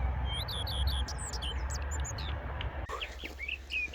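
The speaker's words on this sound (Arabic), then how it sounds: "صوت العصافير في هذه المنطقة رائع جدا." Small birds chirp and tweet in quick, high bursts over a steady low outdoor rumble near an ancient tree in Batna, Algeria, with a fresh run of brighter calls near the end.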